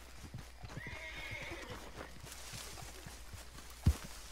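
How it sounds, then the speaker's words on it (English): A horse in the Red Dead Redemption 2 video game gives a soft neigh and whinny with light clip-clopping hooves, all fairly faint and distant, ending with one brief thump. "Apparently my horse is over here"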